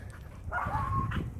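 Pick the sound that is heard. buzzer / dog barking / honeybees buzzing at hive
dog barking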